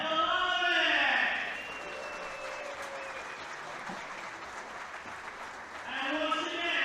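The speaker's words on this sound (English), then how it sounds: "please have a round of applause for our runner-up in this event, Mr. Shandon" Audience at a cue sports pool tournament expo giving a round of applause for the runner-up, a loud burst of clapping that settles into sustained, even applause with a voice over a PA at the start and end.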